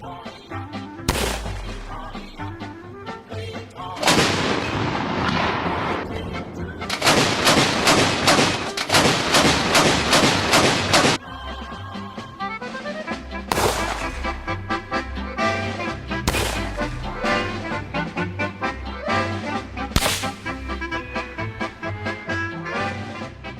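Gunfire from a film's execution scene set in the Anglo-Boer War: loud, sharp rifle shots and longer rattling volleys repeat in clusters across the stretch, each ringing out with echo.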